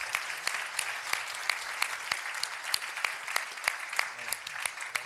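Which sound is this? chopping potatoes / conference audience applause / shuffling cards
conference audience applause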